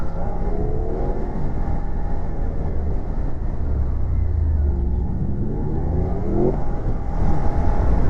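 A motorcycle engine drones steadily on a road circuit, recorded close from onboard, a dense low rumble that swells slightly near the end.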